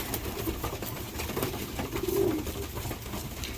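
Pigeons cooing at a feeder, soft low coos repeating now and then against a steady noisy background, with one slightly louder rolling coo near the end.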